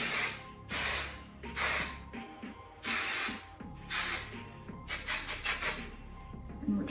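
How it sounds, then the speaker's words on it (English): Several quick hissing sprays from an aerosol can of flexible hairspray, short bursts repeated close up with brief pauses, ending in a rapid series of short puffs. "spray it really quickly with some flexible hairspray"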